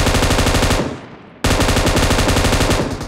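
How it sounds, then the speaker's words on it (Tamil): Automatic gunfire from a battle royale shooter game plays loud and close: a dense, rapid stream of shots, a short fading gap, then another sustained burst with no talk over it. "இரண்டு பேருக்கு ஃபைட், இரண்டு மிஷின் கன்."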